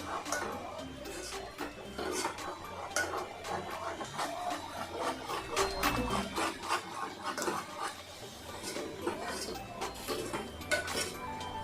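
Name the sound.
stirring mutton curry in a pot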